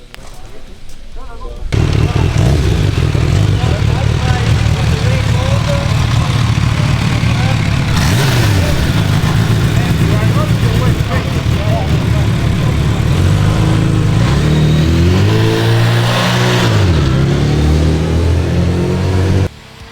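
A 230-horsepower 2023 Bimota Tesi H2 motorcycle on a damp track, its engine loud and close with revs rising and falling through several throttle blips while a rider talks over it.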